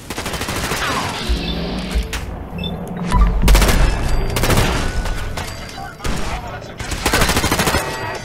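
Rapid bursts of gunfire from the video game Fallout 4 Automatron, loud and dense, with repeated shots and booms layered over one another across the whole stretch and a brief lull before another volley.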